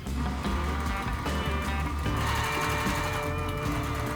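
Sewing machine running steadily while stitching quilt fabric strips, a busy mechanical whir with a few brief pauses and pitch shifts, heard fairly faint and up close with no talking.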